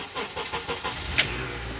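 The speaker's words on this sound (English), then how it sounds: "we're going to go ahead and start the car" A Honda Accord with a 2.4 engine cranks with a rhythmic chugging, then catches with a sharp click and settles into a low idle, heard nearby without talk.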